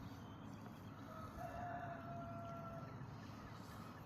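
A distant rooster crows once, faint and drawn out, over a steady low outdoor background hum.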